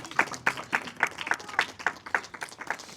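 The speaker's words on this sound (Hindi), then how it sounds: "यीशु के लिए ताली लगा दो" A church congregation claps in praise of Jesus during a Hindi sermon, steady rhythmic hand claps repeating roughly every quarter second, close and lively, with a faint murmur of voices underneath.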